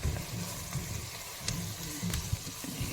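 Shallot paste frying in a pan for a home-style chicken curry, a steady low sizzle with soft crackles and occasional stirring scrapes, close and fairly quiet.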